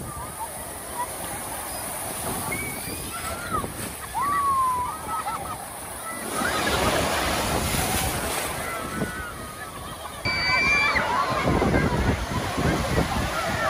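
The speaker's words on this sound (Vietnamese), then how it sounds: "hôm nay biển Sầm Sơn sóng rất là lớn nha các bác nhá" Large sea waves break and surge at Sầm Sơn beach in loud, rolling bursts, with strong wind buffeting the microphone and faint voices in the background.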